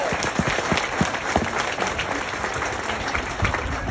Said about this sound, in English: Give these three a nice big round of applause.